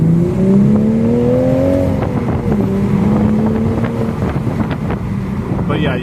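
Toyota Supra Final Edition with a manual gearbox under way, a loud continuous engine drone with rising and falling tones beneath heavy wind and road rush.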